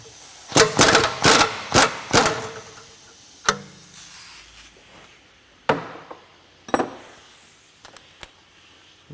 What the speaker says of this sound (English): I'm now going to undo the bottom arm.